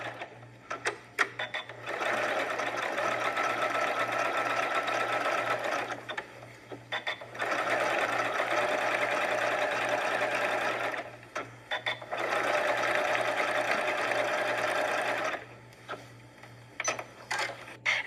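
A sewing machine stitches a decorative stitch across an appliqué quilt in three long steady whirring runs, each lasting several seconds, with brief mechanical clicks and pauses between them, close and clear, with no talking.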